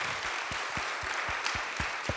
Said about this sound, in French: Je vous propose quand même qu'on applaudisse en tout cas nos 3 intervenants